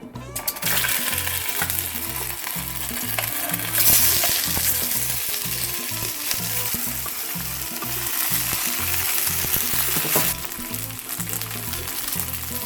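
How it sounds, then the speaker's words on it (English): Chicken momo fry in about a teaspoon of mustard oil in a pan, a steady close crackling sizzle that runs for the whole stretch without a break, with a brief brighter hiss near the start. "I'm gonna fry this until it turns into a brown color"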